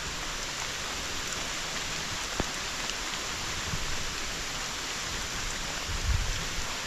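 Steady rain falls continuously and evenly, a dense wash of drops with one brief sharp tap partway through and a low thump near the end; no one speaks.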